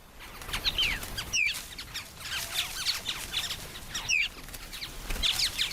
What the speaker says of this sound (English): This bird specializes in plagiarism. It's an Australasian fig bird, the Australian cousin of our oriole.